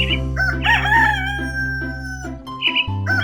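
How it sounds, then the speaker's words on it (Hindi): A cartoon rooster crows loudly in a forest at morning, one long drawn-out cock-a-doodle-doo close up, followed by short clucking notes. "कुकड़ुकू की आवाज जंगल में काफी दूर तक सुनाई देने लगी"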